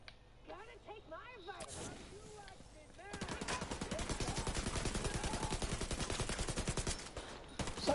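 Automatic gunfire in the video game The Division 2 rattles out in a rapid, sustained burst of closely spaced shots lasting several seconds. A voice talks briefly before the shooting starts.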